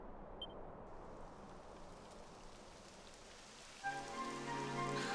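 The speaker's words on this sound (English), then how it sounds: "It would have to go and start raining, wouldn't it?" Rain in the video game Dragon Quest XI S patters on a surface in a constant hiss, then a tonal chime-like sound rises near the end over the rainfall.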